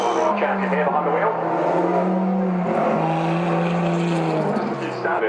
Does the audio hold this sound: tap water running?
no